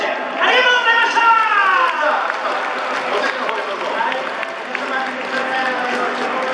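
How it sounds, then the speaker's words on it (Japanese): Audience applause at a singing contest at the F Fes event at Es Con Field Hokkaido, a steady broad patter of clapping from a crowd running under a voice speaking over it. "僕は大きな拍手、ありがとうございました"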